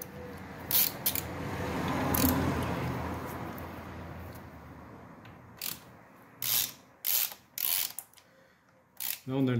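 A ratchet clicks in short, sharp bursts while bolts are loosened step by step on a VW Touareg V10 engine. A low mechanical rumble swells and fades in the background, and the later ratcheting bursts come in quick, separate bursts.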